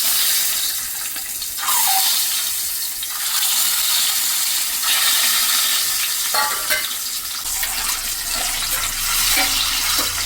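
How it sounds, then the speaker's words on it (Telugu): Eggs frying in hot oil with turmeric in a home kitchen pan, a bright continuous sizzle with crackling pops and occasional stirring scrapes, loud and close with no talking. "ఎగ్స్ కూడా ఫ్రై చేసుకోవాలి మంచిగా."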